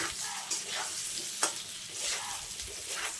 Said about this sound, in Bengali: এখন আলু পটল খুব ভালোভাবে আবারও কষিয়ে নেব